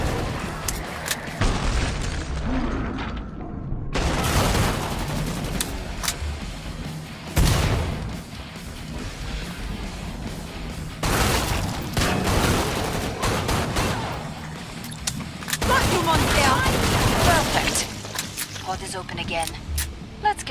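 Heavy gunfire fills a Killing Floor 2 match, with dense bursts of shots and booming impacts coming in waves while voices and game announcements talk over the action.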